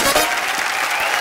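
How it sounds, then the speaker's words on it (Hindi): Audience applause on a comedy talk show stage, a steady dense wash of many hands clapping at close range throughout, with no voices on top. "एक बार ऋचा जी के लिए जोरदार तालियां"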